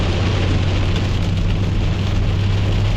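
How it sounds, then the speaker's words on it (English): Heavy rain pours down steadily and loudly on a summer day during a drive to the hardware store, a dense continuous hiss with a low steady rumble beneath it and no voices. "Didn't realize it was raining this hard."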